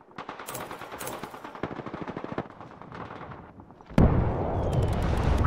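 Rapid bursts of automatic gunfire from an Apex Legends match, sharp repeated cracks through the first four seconds, then a louder, denser barrage of shots and blasts that fills the rest, with no talk over it.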